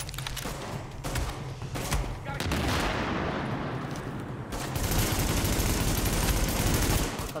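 Sustained gunfire rattles through a firefight in The Division, dense bursts of automatic shots that pause briefly and then resume, loud and continuous throughout.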